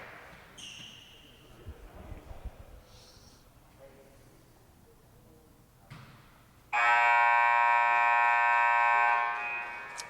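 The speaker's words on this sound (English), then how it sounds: "Set to resume as the buzzer goes off." A loud, harsh electronic buzzer blares for about three seconds in a gym at a men's college volleyball match, after quieter court sounds, shoe squeaks and brief thuds.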